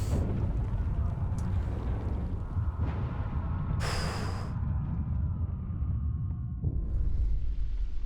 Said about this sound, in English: And here's the explosion.